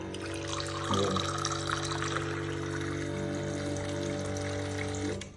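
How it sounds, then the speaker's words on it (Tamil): A COSTAR automatic water dispenser pumps water into a glass, making a close, steady motor hum under pouring water that runs unbroken for about five seconds before stopping. "ஒரு கிளாஸ் தண்ணி எவ்வளோ டைம் எடுத்துக்குது ஃபில் பண்ணுறதுக்கு அப்படின்னு சொல்லிட்டு பார்த்துடலாம்."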